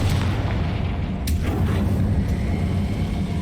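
A Confringo spell explodes in Hogwarts Legacy as a loud, low booming blast with a sharp crack near the middle, over a dense rumbling roar that fills the whole moment.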